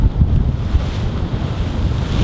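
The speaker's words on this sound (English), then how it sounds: "There's rocky waves. There's rocks underneath." Loud, continuous roar of ocean surf surging against the rocks below a roughly 70-foot cliff in the Bahamas, with heavy wind buffeting the microphone throughout.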